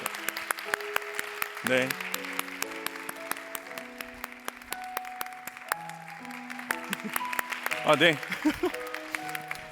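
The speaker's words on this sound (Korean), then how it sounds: "선물 이렇게 전달 받을 때 박수로 우리 교육자들도 함께 이렇게 하도록 하겠습니다" A congregation at a Korean church's Sunday youth worship service applauds during a gift presentation to educators; the clapping rises in bursts over sustained music, with brief spoken acknowledgements.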